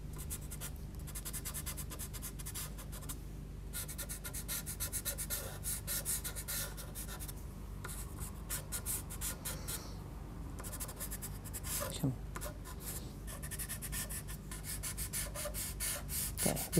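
A white pastel pencil scratches and rubs across paper in short, thin strokes while sketching wispy evening clouds, giving close, quiet rasping bursts with brief pauses between them.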